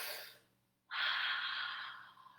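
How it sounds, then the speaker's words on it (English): A single deep breath during a children's yoga session: a breathy exhale trails off into a short pause, then a long, steady inhale-like rush of air follows, close and clear with no talking. "One more big breath."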